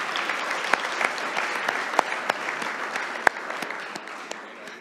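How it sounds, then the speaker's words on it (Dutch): Church audience applauding long-serving members, many hands clapping steadily with sharp individual claps standing out close by, sustained across the whole span and gently tapering at the end. "Geef de mensen een keer een applaus dat ze zo lang met ons zijn."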